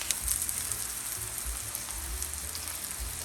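Cabbage frying in a pan until crispy gives a soft, steady sizzle and crackle, faint and close, with small pops scattered over a low hiss.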